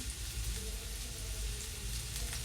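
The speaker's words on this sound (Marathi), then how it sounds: "अशा प्रकारे आपल्याला कांदा सतत हलवत भाजून घ्यायचा आहे" Chopped onion roasts in a pan for a black horse gram usal while being stirred constantly, making a soft, even, low sizzle with a faint hiss throughout and no talking.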